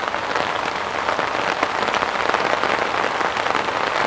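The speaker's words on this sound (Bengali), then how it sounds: "তবে বৃষ্টিটা খুব দরকার ছিল আরও বেশি বৃষ্টি হোক" Heavy rain falls steadily on surfaces close by, a dense continuous patter without pauses and with no one speaking.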